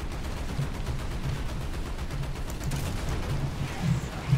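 Machine gun fire from an M18 Hellcat tank destroyer's .50-calibre guns in War Thunder, a steady rattling stream of rapid shots under a continuous rumbling engine drone.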